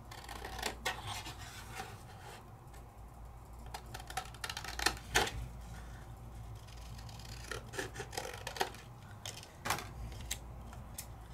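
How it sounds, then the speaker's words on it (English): Scissors trim a stamped paper image, cutting it out by hand. Faint, crisp snips and rustles come in an irregular close-up series in a quiet room. "Okay, so now I can trim it out better."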